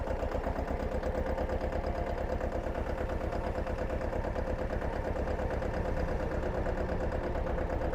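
Mahindra Jivo 245 DI 4WD tractor engine chugging in low gear at slow speed, a steady, rapid low diesel thump repeating evenly and close for the whole stretch, with no talk over it.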